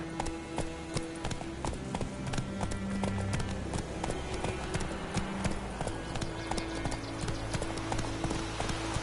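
Hooves of a horse clip-clop in a steady, rapid rhythm as it gallops in The Witcher 3, close and prominent over a game soundscape.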